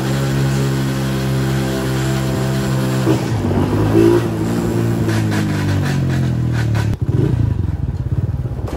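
Close, loud motorcycle engine running with a rough idle that climbs through several revs, rising and falling in pitch, then a clattering shift near the end. No one speaks over it.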